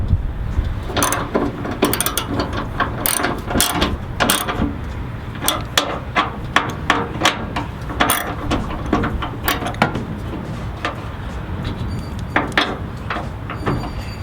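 A ratchet wrench tightens the ditch light bolts on a Toyota Tacoma, giving close, loud rapid clicking bursts in uneven runs with brief pauses between strokes.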